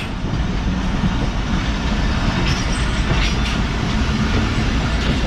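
Mohen Jo Daro passenger train coaches roll past close by in a steady, loud rumble with continuous wheel clatter.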